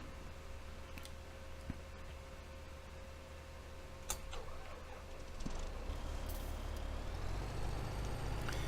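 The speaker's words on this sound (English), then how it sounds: "I'm gonna jump out and definitely move our truck" A truck in the Farming Simulator 2017 farming game, on the Lost Islands map, drives with a steady mechanical engine hum, a few sharp ticks and a brief hiss, growing louder and rougher toward the end, with no talking.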